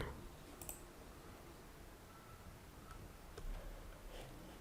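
A computer mouse gives a few faint, isolated clicks in a quiet room, with long pauses between them.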